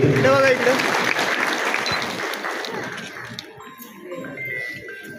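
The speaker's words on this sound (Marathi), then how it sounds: "सर्वांनी पुन्हा एकदा जोरदार टाळ्या वाजवायचे आहे" An audience claps for honourees at a school retirement felicitation ceremony, with loud clapping at the start that gradually thins out, while a faint tone or bell rings in the background.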